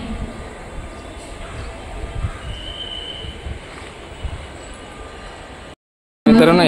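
A Diva–Roha train approaching a station platform, a low rumbling roll with faint metallic squeal and a brief high whine, steady and moderately close, ending in a cut and a loud burst of noise.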